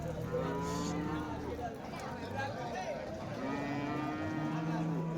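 Tall, medium-bodied cattle once used to pull carts stand at the Vaniyambadi cattle market in Tirupattur, lowing in drawn-out moos amid crowd bustle while someone talks close by.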